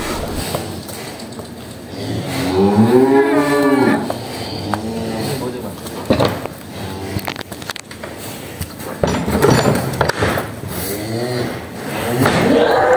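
Cattle low and moo in a pen in the late afternoon after feeding, before being loaded for transport. The calls are moderately close, in a few drawn-out bursts over a steady background murmur of farmyard noise.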